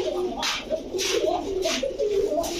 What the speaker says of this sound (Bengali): এই যে দেখেন মাশাআল্লাহ লাল দানা কবুতর এগুলো